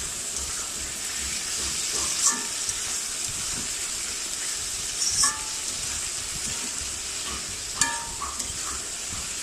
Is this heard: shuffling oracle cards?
no